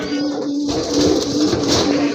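A large pigeon pair at a farm sale coos steadily and closely over a dense wash of background noise, with no talk.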